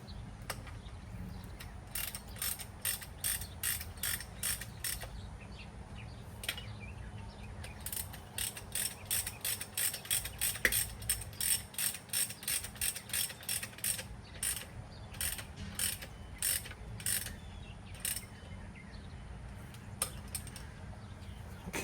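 Ratchet wrench running down the rod bolts on a Chevy 350 V8 during a budget engine rebuild, with rapid bursts of clicking pawl strokes repeating steadily and close, with short pauses between runs.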